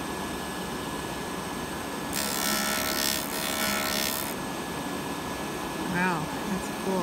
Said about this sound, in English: I'm going to create the little grooves a little bit grinding on this.